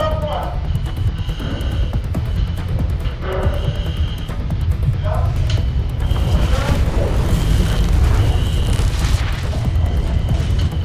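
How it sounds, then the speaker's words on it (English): Smoke igniting into fire inside a firefighter academy training chamber, heard as a continuous deep roaring rumble with scattered bursts and pops, while voices speak over it. "All the smoke that came out of the chamber ignited immediately into fire."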